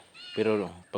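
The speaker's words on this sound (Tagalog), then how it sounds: "Ayan yung pusa ko guys oh." A cat on a small farm lets out one drawn-out meow followed by a short second one, close and clear.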